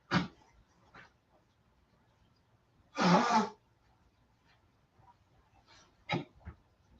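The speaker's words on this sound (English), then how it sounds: "I'm gonna blow my nose while I'm up." A short, loud burst of nose blowing stands out in a quiet room, with a few faint sniffs and small noises before and after.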